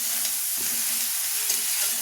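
Home-grown bottle gourd fries in a pan with a dense, continuous close sizzle and faint stirring, steady and loud with no voices.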